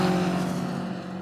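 A tuned 1000hp BMW M5 roars past during a drag race, a loud, steady engine drone close by that eases slightly as it goes.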